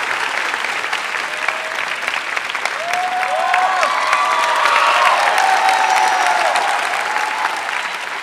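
An audience at a televised talent show (Myanmar Got Talent) claps hard and continuously, with scattered cheers and shouts rising and falling within a dense wall of applause.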